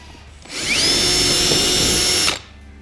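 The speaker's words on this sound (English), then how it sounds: "So now drill out your holes that you can." A power drill whirs loudly and steadily for about two seconds while drilling out screw holes for rivets on a Dodge Charger body extension, spinning up and stopping abruptly.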